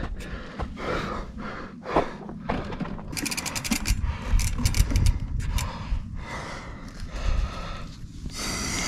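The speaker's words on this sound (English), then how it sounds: "Out of breath." Heavy, ragged breathing and snorting from a rider pushing a freeride mountain bike up a steep trail on foot, with intermittent clicks and ratcheting from the bike's freewheel close by throughout.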